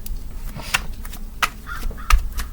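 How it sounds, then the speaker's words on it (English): Crows cawing outdoors, several short loud calls spaced apart over a low steady background hum. "There are crows outside and they're laughing."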